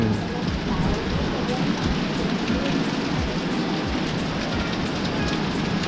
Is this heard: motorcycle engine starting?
no